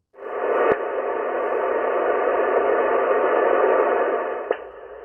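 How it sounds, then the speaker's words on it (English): An ionosonde sweep heard on an HF radio: a steady band of static hiss with warbling tones, broken by two sharp clicks, one early and one near the end, heard alone. "that is an ionosonde beam going up and coming back down"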